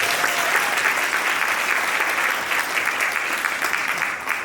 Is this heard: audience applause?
yes